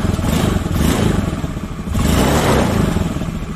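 A motorcycle engine revs up twice while a multimeter is clipped to the battery to test the regulator's charging output; loud, close, throttle rising, easing off briefly near the two-second mark, then climbing again.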